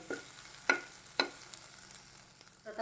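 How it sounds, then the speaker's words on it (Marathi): Okra being stir-fried with roasted peanut powder gives a faint sizzle broken by a few sharp scraping taps of a spoon against the pan. "त्याच्यात आपण दोन चमचे शेंगण्याचा कूट टाकूया भाजलेल्या हे पण परतून घेऊया"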